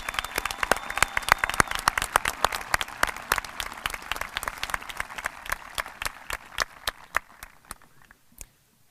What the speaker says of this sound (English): please join me in a round of applause for your teachers and your administration